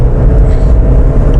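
A classic hydropneumatic Citroen accelerating, a steady low engine rumble and road roar held close and loud throughout with no break.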